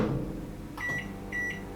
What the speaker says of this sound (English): this video is just going to be a lot of me sitting around listening to a microwave